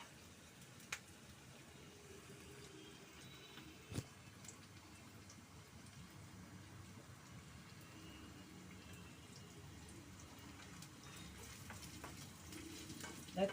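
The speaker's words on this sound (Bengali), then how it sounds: "দেখো পেঁয়াজটা আমি ভাজছি" Onions fry in hot oil for a fish curry (doi rui), giving a faint, steady sizzle with a few soft scrapes and taps of a spatula, quiet and even throughout with no voices.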